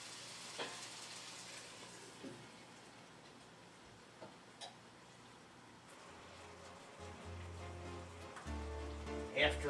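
Beef browning in a pan for beef bourguignon, a faint steady sizzle with scattered pops and crackles, growing louder near the end.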